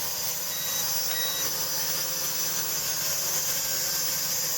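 A DEERC D10 toy drone hovers nearby, its rotor blades giving a steady, loud, high-pitched whine and buzz that holds unbroken throughout with no voices.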